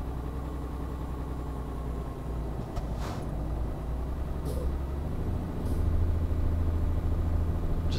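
Euro Truck Simulator 2 truck engine drones at a steady low rumble throughout, with a few faint hissing bursts over the top and a slight rise in loudness near the end, with no talk.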